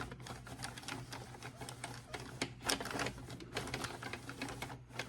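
A hand-cranked sock knitting machine works through rows, giving a quick, busy clatter of needles ticking in an uneven rhythm at close range.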